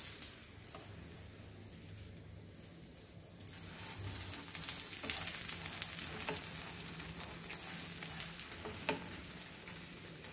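Palak cheese paneer paratha frying in a pan, a soft continuous sizzle and crackle with small popping bursts, close but quiet, no talking.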